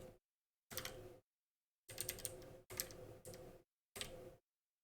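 Keys clatter on a computer keyboard during a coding session, in short separated bursts of quick clicking with silent gaps between them, fairly quiet and close.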